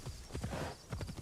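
Horse hooves clip-clop in a quick gallop rhythm with a brief whinny in Assassin's Creed Shadows, the game horse running close by under a faint background wash.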